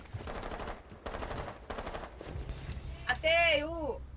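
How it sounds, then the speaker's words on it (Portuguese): Rapid bursts of automatic gunfire in Rainbow Six Siege, loud and close, followed by a voice speaking briefly over the shooting. "Tô errando todos os tiros no cara da oficina."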